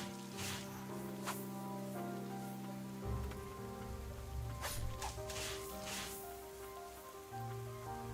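Rain in the video game Ender Lilies: Quietus of the Knights, a soft steady patter under layered ambient game music with droning tones, faint and continuous throughout.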